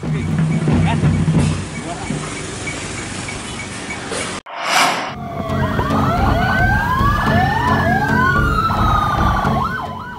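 Ambulance siren in traffic in Langsa, Aceh, escorted by motorcycles, the wailing tone sweeping up and down clearly over steady road noise and engines after a brief break in the sound.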